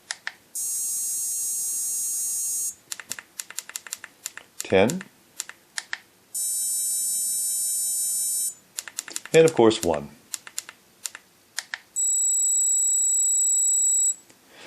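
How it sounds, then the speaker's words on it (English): An EP 380R remote dog training system sounds three sustained high electronic tones at different levels, each a few seconds long, with clicky button presses between them and someone speaking in the gaps. "You can start to hear the pitch is going higher and higher."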